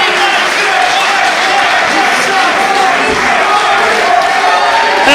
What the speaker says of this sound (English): A big round of applause for Bill Carr featuring Dan Barry.